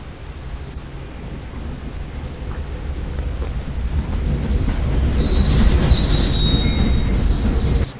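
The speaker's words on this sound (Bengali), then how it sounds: "ভালো ট্রেন।" A train rolls past on the railway with a steady rumble that grows louder as it nears. Metal wheels squeal high and thin above the rumble.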